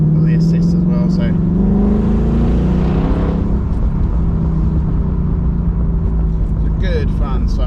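A Ford Mustang GT in sports mode with assists off revs loudly, a deep rising engine rumble that swells and fades under steady broadband roar, with a person talking intermittently over it.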